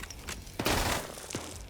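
Grenade blasts in a multiplayer military shooter match, a broad booming burst that swells and rolls for about half a second, followed by a smaller second thud, moderately loud against low background noise.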